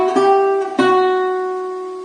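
A few notes of a flamenco alegrías piece plucked slowly and left to ring, the tones sustaining and fading gently, close and clean with no talking.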